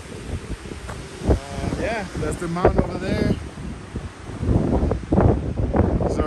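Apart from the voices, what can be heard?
strong wind outdoors in Colorado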